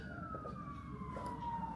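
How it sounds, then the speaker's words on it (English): Emergency sirens wailing through a Chicago street, a steady falling tone held over a low rumble of traffic for the whole stretch, fairly distant and continuous with no talk. "The sirens are just here for dramatic effect for Chicago."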